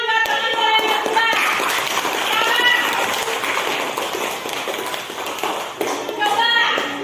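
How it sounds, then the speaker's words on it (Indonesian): Schoolchildren in a classroom clap for a classmate in quick scattered bursts mixed with children's chatter and shuffling, continuing under voices throughout. "Tepuk tangan buat teman saya yang kedua."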